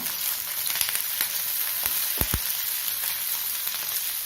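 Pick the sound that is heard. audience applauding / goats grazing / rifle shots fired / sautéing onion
sautéing onion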